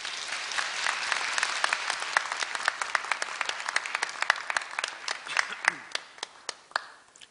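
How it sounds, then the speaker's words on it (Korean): Audience in a Korea University graduation ceremony hall applauding to welcome a film director to the stage, a steady dense round of clapping that thins toward the end. "큰 박수로 환영해 주시기 바랍니다."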